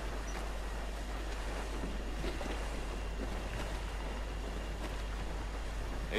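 Sailing ship cruising the open sea in Assassin's Creed Black Flag, a steady wash of waves and wind rushing past the hull, continuous and fairly loud with no talking.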